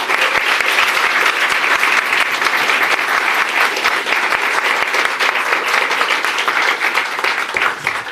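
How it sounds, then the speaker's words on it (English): Audience applause at a school event with the mayor in attendance: dense, steady clapping from a crowd that holds at an even level throughout with no talk over it. "Let's give them all a round of applause."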